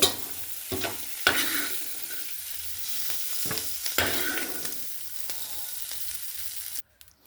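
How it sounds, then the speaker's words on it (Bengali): Onion stalks and potato pieces fry in a home pan while being stirred, giving a steady sizzle broken by repeated scraping strokes of the spatula, close and moderately loud, cutting off near the end. "পেঁয়াজ কলিগুলো ভেজে নিয়েছি, এবার এগুলো তুলে নেব।"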